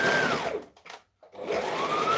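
A sewing machine runs a backstitch on a fabric scrunchie: a steady motor whir winds down, stops for about half a second, then spins back up and runs steadily again, close and clear.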